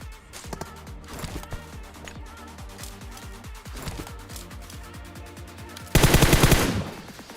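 Repeated rapid gunfire from a mobile battle royale video game, with loud close bursts of automatic shots and footsteps, ending in a dense, louder volley.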